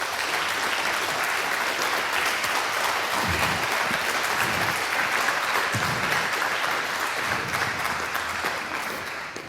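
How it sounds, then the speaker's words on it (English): An audience gives a big round of applause at a talk on reporting vulnerabilities in Belgium, a dense, sustained clapping from a sizable crowd that stays loud throughout and eases slightly at the end. "let's first start with a big round of applause"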